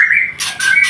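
Caged myna (jalak) bird calling: a shrill whistle followed by several loud, harsh squawks, close and clear in under a second.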